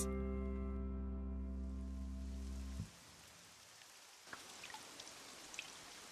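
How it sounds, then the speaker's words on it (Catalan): Rain in a Catalan-dubbed Doraemon cartoon begins after a sustained musical tone cuts off, a steady wash of falling rain with scattered droplet taps, moderately loud and without talk. "Fes que pari de ploure!"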